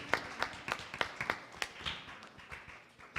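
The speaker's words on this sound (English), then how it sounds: "Let me give you all a round of applause." Brief applause during a Sunday morning church service: a small audience clapping in a loose, sparse rhythm of distinct nearby claps, fading after about three seconds with no talk over it.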